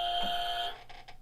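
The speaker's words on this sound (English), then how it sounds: "Is that a buzzer?" A sharp electronic buzzer on a talk show desk sounds one steady tone for under a second, then cuts off into quiet room noise.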